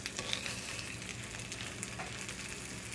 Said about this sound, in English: So I've got my cast iron skillet. I've got it on low. I like starting my bacon out on low.